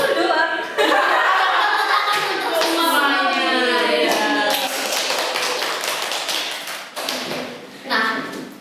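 A small group applauds Mas Ulul at the close of a multimedia internship, with quick, close clapping running throughout, mixed with chatter and light laughter.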